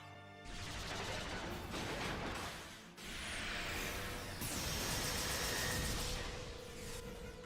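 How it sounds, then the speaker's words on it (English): X Cannon's massive beam ether attack in Xenosaga III erupts as a dense, loud roaring blast that swells and surges in waves, with sweeping bright whooshes layered over a heavy rumbling body for several seconds. "Massive beam ether attack."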